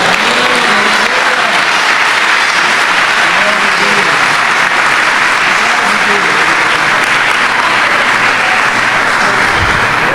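A church congregation breaks into sustained, dense applause that fills the room steadily and loudly from start to finish, with some voices mixed in beneath the clapping.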